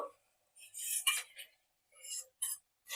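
Fried spice paste is stirred into prawn gravy in a pan, giving short, close scraping and rubbing strokes separated by brief silences.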